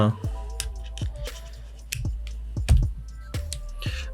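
An Eclipse RTA tank from Yachtvape and a reviewer, holding 3.5 ml, is filled with e-liquid: close, sharp little clicks, taps and soft squishy drips come in an irregular run, with a brief voice at the start.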